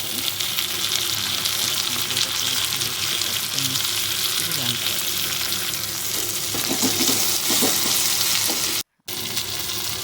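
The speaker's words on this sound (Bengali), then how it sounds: "পেঁয়াজ টমেটো ভাজা" Continuous hissing sizzle of onion and tomato frying in a pan, with occasional stirring scrapes, briefly cutting out near the end.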